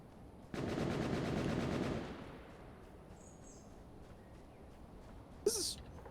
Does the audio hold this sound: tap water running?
no